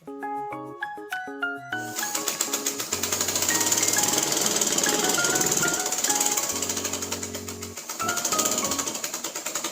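A sewing machine stitches a bolster pillow cover in a rapid, steady mechanical chatter that runs continuously after a brief start, with tonal music playing alongside.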